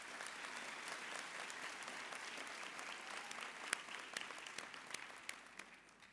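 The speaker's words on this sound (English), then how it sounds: "Let's give them a warm round of an applause." An audience at a university ceremony conferring an honorary doctorate applauds steadily, a dense wash of many hands clapping that stays fairly even before thinning toward the end, with a few sharper individual claps standing out.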